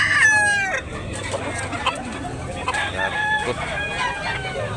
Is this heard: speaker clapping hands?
no